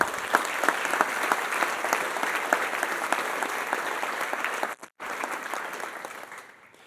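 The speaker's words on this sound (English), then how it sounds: "So how about a round of applause for all involved?" Sustained audience applause fills a university State of the University address, steady and dense with many hands clapping, briefly cutting out for a moment before resuming and fading toward the end.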